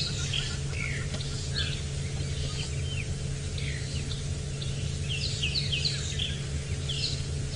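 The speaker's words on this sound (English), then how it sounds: "We've got hornbills in the background doing their call as well." Steady chorus of bird calls, including hornbills, with chirps and whistles scattered throughout, over a constant low hum and insect buzz at sunrise on safari; no talking.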